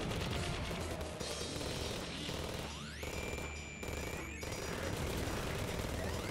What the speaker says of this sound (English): Oh, I'm glad for homing bullets.